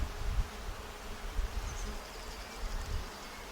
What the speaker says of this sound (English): On this hive there were a lot more bees